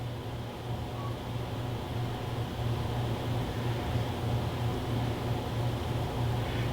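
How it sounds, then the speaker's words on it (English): Steady broadband hum and whoosh of an air conditioner running in the background of a room, constant and fairly quiet, with no speech. "That noise you hear in the background, if you hear it, is my air conditioner running."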